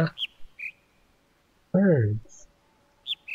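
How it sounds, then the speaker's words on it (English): Artificial birdsong played through speakers in the puzzle game The Witness: a few short high chirps spread across the clip, with one louder, lower warbling call in the middle. "Birds."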